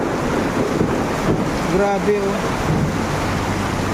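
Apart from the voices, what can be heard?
heavy rain and thunder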